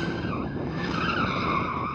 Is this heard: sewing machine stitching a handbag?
no